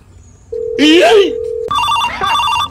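A telephone rings close by with a steady electronic tone followed by a pulsing melodic ringtone, while a voice talks over it.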